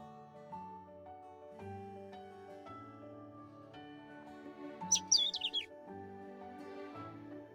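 A bird chirps in the video game Love and Deepspace, a brief burst of quick high tweets over soft, sustained background music.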